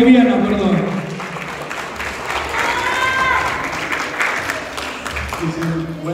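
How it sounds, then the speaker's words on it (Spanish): A crowd applauds at a Bolivian community festival for an Afro-Bolivian saya group, steady clapping filling the whole stretch at moderate loudness with voices mixed in. "¿Para quién pido un fuerte aplauso, por favor?"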